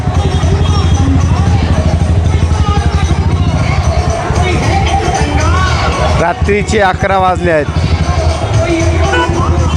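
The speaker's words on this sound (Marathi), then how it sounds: "ही प्रचंड गर्दी आपण बघत आहोत" A huge night-time crowd packs a street during the Ganpati festival in Jalna, a dense steady babble of many voices with passing engines, while someone speaks close over it.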